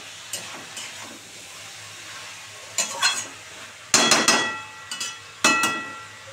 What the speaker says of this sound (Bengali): একদম গ্যাস কমিয়ে এরকম নাড়াচাড়া দিয়ে ঢাকা দিতে হবে